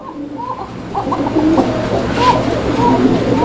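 An Arabian shalik koka pigeon cock coos close by, giving a series of soft, rolling coos over faint background noise.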